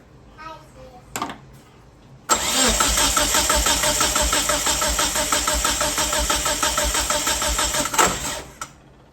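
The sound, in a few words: 1997 Eclipse GSX engine cranking during compression test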